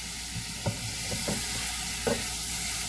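Bacon frying in its own rendering fat in a pan, a steady close sizzle broken by several sharp scraping knocks as the strips are pushed around.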